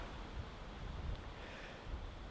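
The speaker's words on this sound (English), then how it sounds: "Still pretty windy today" Faint wind gusts across a campsite as a low, steady rush of air buffets the microphone, with no voices.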